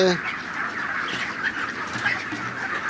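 A crowd of 36-day-old chickens clucks and murmurs continuously at moderate distance on a farm in hot weather, a busy barnyard chatter with a short higher call at the start.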